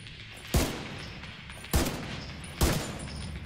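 Three heavy turret shots in The Division 2, evenly spaced and booming over a constant background rumble of game ambience, no voices.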